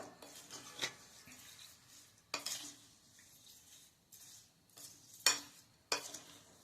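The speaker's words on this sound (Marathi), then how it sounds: "आता हे व्यवस्थित मिक्स करायचं" Fasting lemon pickle is mixed with spices in a bowl, heard as a few sharp scraping clinks of a spoon against the container separated by quiet pauses, faint and close.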